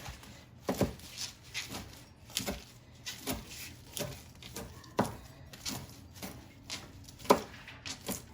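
A knife chops through a big bunch of fresh kale on a cutting board in a home kitchen, giving crisp, irregular thuds at roughly a cut every half second, close and distinct against a quiet background.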